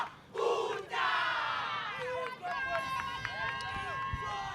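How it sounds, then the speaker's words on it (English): A volleyball crowd at a Namibia vs South Africa match cheers and shouts to rally behind their players, a loud sustained roar of many voices with whistles and chants rising and falling. "we can hear from the crowd there, South Africa, Namibia, they are rallying behind their players there"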